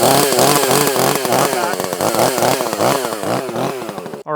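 A ported 30cc chainsaw with an 18-inch bar cuts into pine, its engine screaming loud and close with a rhythmic rise and fall under load before cutting off abruptly at the end.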